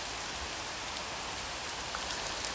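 Heavy rain pours down all around, a dense steady hiss of falling water, close and continuous with no voices.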